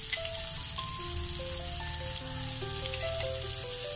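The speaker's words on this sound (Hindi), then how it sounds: "अब मैं थोड़ा थोड़ा तेल मछली के ऊपर डालूंगी।" Oil poured over fish frying in a pan gives a soft, even sizzling hiss that runs steadily beneath a gentle melodic tune.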